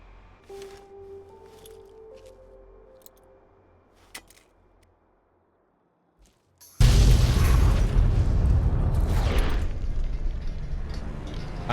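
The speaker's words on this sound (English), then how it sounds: "I have these holy frag grenades." Holy frag grenades in Fallout: New Vegas detonate after a quiet lead-in of faint clicks and tones, erupting into a sudden, loud, rumbling blast that keeps roaring and crackling for several seconds.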